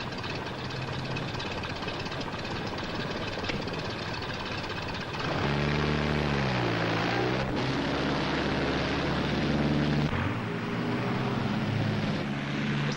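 Old-style radio drama effect of a propeller aircraft engine idling roughly, then revving harder and straining as the plane tries to take off downwind, a loud continuous drone with shifting pitch.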